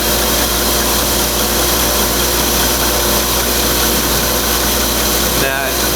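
Belt sander grinding a knife blade up to a line, a loud steady motor whine and belt hiss running unbroken, with a brief scraping change near the end.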